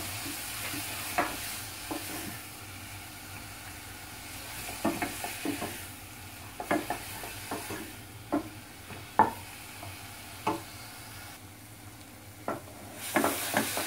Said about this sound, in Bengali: মিশিয়ে নিয়ে অল্প আঁচে বাঁধাকপিটা একটু হালকা ভেজে নেব।